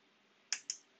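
Two quick, crisp keystrokes on a computer keyboard, close and isolated in a quiet room.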